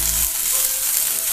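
Ginger, garlic, onion and a green chili fry in a hot pan with a steady, close sizzle that holds evenly throughout, with no one talking.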